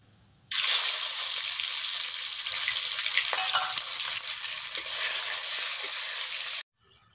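A tomato hits hot oil with whole cumin and spices for a village-style saag. A sudden, loud, continuous hiss of frying starts abruptly, holds for about six seconds, then cuts off sharply, with no talking.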